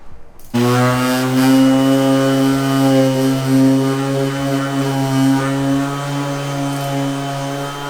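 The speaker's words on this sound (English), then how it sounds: "Right now I'm sanding down this fender" A power sander kicks on abruptly and keeps up a loud, steady whirring drone against the fender of a turbo Mustang, with no pauses.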